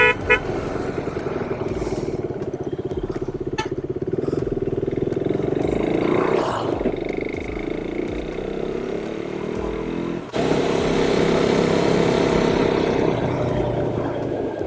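A KTM motorcycle engine revs and pulls away with children aboard. A loud, close, steady engine drone rises in pitch and then carries on, with horn toots and a faint voice in the mix.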